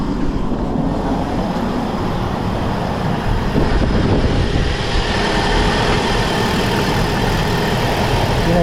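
A Chevy Sonic engine idles steadily after a misfire and rough-running repair, a constant low rumble with a faint mechanical hum, close and even throughout, no talking.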